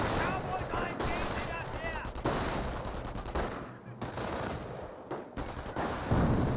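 Machine gun fire from the real-time strategy game Company of Heroes rattles in dense bursts amid explosions and battle noise, with voices talking over the steady combat din.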